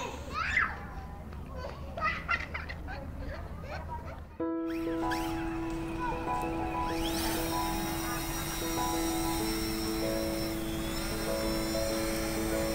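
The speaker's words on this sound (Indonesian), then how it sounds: "akhirnya gue nerbangin drone dari depan Menara Siger ya" A 2022 Fimi X8SE drone flying near Menara Siger tower by Bakauheni ferry port, Lampung, gives a steady, fairly loud whine with stable tonal lines. It runs alone for about eight seconds after a short burst of outdoor voices and children at the start.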